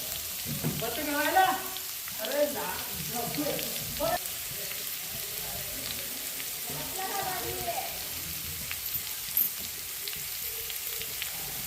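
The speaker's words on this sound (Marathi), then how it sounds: "जिरे तडतडले त्यानंतर मोहरी टाकून घेऊया" Cumin and mustard seeds sizzle and crackle in hot oil, producing a steady frying hiss with scattered pops, while a person talks over it in the first part.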